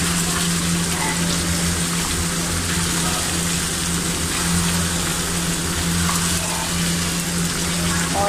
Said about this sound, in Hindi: फ्लेम हमने हाई रख के इसकी भुनाई कर दी